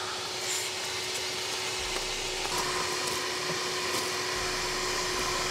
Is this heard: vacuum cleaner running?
yes